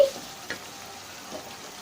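Spice paste frying in oil in a pan for a Bengali fish curry with bottle gourd leaves: a steady, soft sizzle with a faint stir or two, close and without voices.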